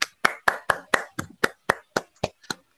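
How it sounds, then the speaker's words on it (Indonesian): Applause for group 1 in a primary school classroom comes as about eleven sharp, evenly spaced claps, close and fairly quiet, with no other sound between them. "Silakan beri aplaus pada kelompok 1."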